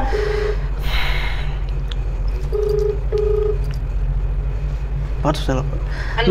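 A telephone call placed by a journalist to a madam in Mahanga, Odisha: short keypad tones sound in separate bursts, with breathy room noise and a steady low hum throughout.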